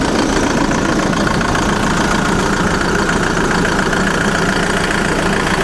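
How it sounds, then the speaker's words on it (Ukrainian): A turbocharged tractor engine idles after working under heavy load, a steady, loud, rattling rumble that runs without a break and without speech. "Хай він отак торохтить, щоб температура в двигуні вирівнялася."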